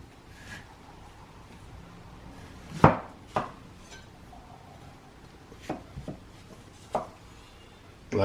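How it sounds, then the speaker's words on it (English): A knife cuts a cucumber down the middle on a board, giving a few sharp, close knocks and taps spaced irregularly through otherwise quiet room tone. "So now what we're going to do with the cucumber is slice it down the middle."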